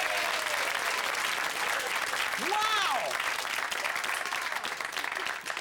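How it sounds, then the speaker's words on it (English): Lively applause from an audience fills the clip, with an excited voice exclaiming over it midway and children's chatter mixed into the steady clapping. "Give him a clap, look at that!"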